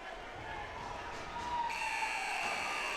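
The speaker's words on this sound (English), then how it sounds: "Right to the final buzzer" A loud, steady electronic buzzer sounds partway through, marking the end of an ice hockey game between the Red Wings and the Cataracts. It rises over continuous arena crowd noise and lingers to the end.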